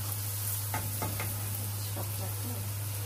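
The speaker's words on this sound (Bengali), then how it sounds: "এখন পেঁয়াজের মধ্যে এটাকে একটু বাগার করে নিচ্ছে।" Garlic paste frying with onions in a pan for a hilsa fish head dish, a steady close sizzle with several soft stirring knocks and scrapes, under a low constant hum.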